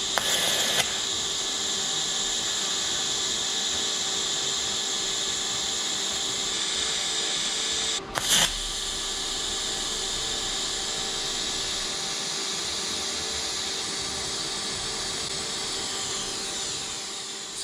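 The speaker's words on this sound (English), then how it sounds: "I'm just going to be attempting to TIG weld that gap." A TIG welder arcs along a gap in a homemade engine mount for a Tacoma beams swap, giving a steady, loud hiss and buzz that runs almost nonstop, broken by one short pause and a crackling restart.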